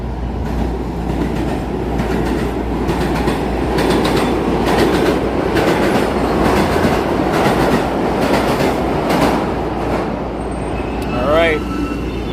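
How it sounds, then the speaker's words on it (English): A New York City subway train rumbles beneath street grates near Lincoln Center in Manhattan, a loud continuous roar with rhythmic clacking rising from below, under street noise and a person talking. "You can hear the subway right below the grates here."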